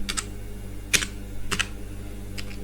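HTML code being typed on a computer keyboard comes through as a few sparse, close key clicks in small clusters, separated by short pauses, with a low steady hum underneath.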